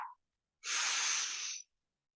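A person slowly breathes out during a breathing exercise, one soft close airy exhale lasting about a second, preceded by a brief faint breath and followed by silence.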